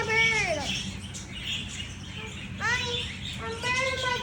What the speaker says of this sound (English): I'm feeding a bird.